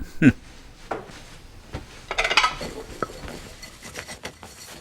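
Metal pots and pans clank and clatter as they are handled in a kitchen scene from a Hansel and Gretel horror film, with scattered sharp clinks and a cluster of rattling knocks near the middle.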